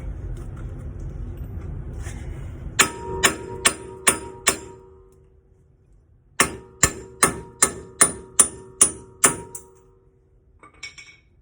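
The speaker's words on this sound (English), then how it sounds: "get your BFH, big fucking hammer, knock them out" Two runs of sharp metallic hammer strikes knocking out parts on a Subaru STI, about five and eight blows each, evenly paced and ringing, separated by a short pause, with a low rumble beforehand.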